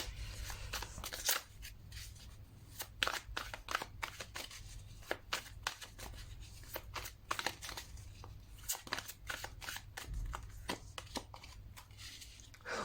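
Tarot cards are shuffled and drawn close by, giving quiet, irregular papery snaps, flicks and crinkly rustles that come in short bursts over a faint background.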